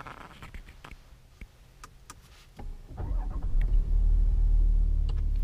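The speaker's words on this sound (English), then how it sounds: "you get that growl as you start it up, which is rather nice" An executive saloon car's engine starts up, a low rumble swelling after a few quiet clicks and building into a steady, loud growl that holds to the end.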